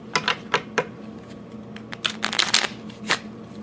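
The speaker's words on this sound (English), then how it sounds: "So, what you do is shuffle the cards." Rapid riffling bursts of playing cards being shuffled, several quick crackling flurries close by, with brief pauses between them.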